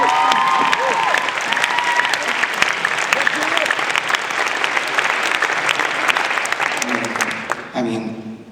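Loud, sustained audience applause with some cheering for volunteer fundraisers at a children's hospital fundraising event, continuing steadily before tapering off near the end as talk begins.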